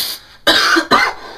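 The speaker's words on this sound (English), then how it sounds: "Are your aerosols making you cough too much?" Two sharp, loud coughs come close together at close range, each a harsh burst, with no other sound.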